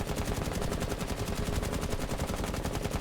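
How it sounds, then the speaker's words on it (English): Nomad's rifle fires in Rainbow Six Siege as one continuous, loud, rapid full-auto burst, its shots evenly spaced throughout with no pause and no voices. "this is a demonstration of my sensitivity attempting to control Nomad's recoil"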